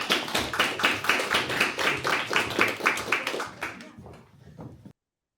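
A lecture audience at an event on British architecture and visual culture applauds with dense, steady clapping that thins out and stops after about five seconds.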